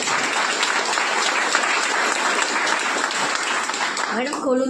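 An audience claps loudly at a sanitary napkin product demonstration, a dense, sustained burst of applause that cuts off near the end as a voice begins speaking.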